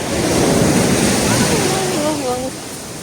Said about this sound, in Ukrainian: прям під ці штуки підмиває море